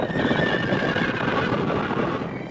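An off-the-track thoroughbred horse gives a steady, sustained neigh for the whole span at moderate level, with a faint hoof clop hinted at and a sharp knock at the very end.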